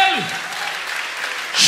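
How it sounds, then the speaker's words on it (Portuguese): A church congregation claps in a short burst of applause at a worship service, a dense patter that swells at the end, with a preacher's voice trailing off at the start. "Aleluia, aplauda Ele."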